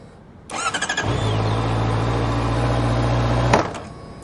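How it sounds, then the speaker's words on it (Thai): A Honda CBR650R motorcycle engine cranks and catches, idles steadily for a few seconds, then cuts out abruptly when the kickstand sensor kills it. The engine is close and alone, with no talk. "รถจะดับเองอัตโนมัติคือเซ็นเซอร์ขาตั้งนั่นเอง"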